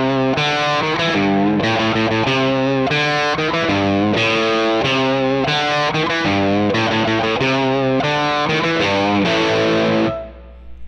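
Heavily distorted electric guitar tone from a Line 6 Helix with the amp hum parameter turned up to 10, playing a loud, steady riff of sustained chords and notes for about ten seconds before cutting off into a low, buzzing hum.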